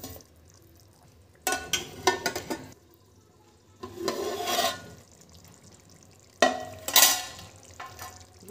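Mixed vegetable mutton keema with cauliflower cooks in a pan, giving soft intermittent bursts of stirring and sizzling with quiet gaps between, close and fairly faint.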